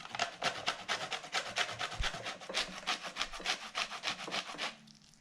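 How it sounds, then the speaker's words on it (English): A whole lemon is grated on a grater in rapid, rhythmic scraping strokes, fairly quiet and close, continuing steadily for several seconds before stopping. "So I'm going to go ahead and grate the lemon."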